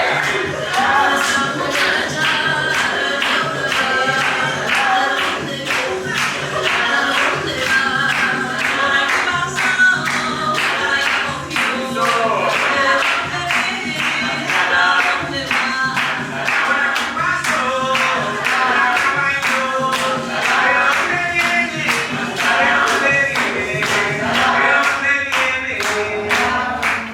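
Sustained applause fills a room at the close of a Caribbean dance and percussion workshop, loud and continuous rhythmic clapping from a group that lasts throughout.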